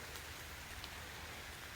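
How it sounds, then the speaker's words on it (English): Steady rain pours down outdoors during a wet goose hunt, a dense continuous hiss close by with no talk. "the rain is really starting to come down now."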